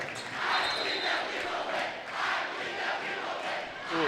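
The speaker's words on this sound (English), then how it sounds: "that crowd for Tartan is just going nuts" Tartan fans pack a high school boys basketball gym, cheering and chanting in loud swelling waves that rise and fall over a few seconds, with scattered shouts on top.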